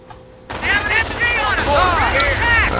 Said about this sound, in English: Oh shoot, they got a mortar team out there.